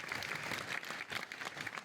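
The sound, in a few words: audience applause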